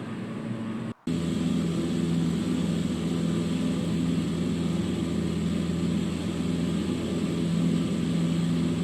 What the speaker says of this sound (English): Even here, now in the Cessna, coming into a breezy Sedona airport in Arizona